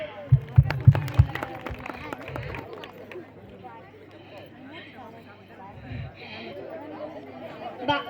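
Applause for the women organisers at a Panchashil Nagar community jayanti event, a short burst of claps near the start fading into crowd chatter and a speaking voice.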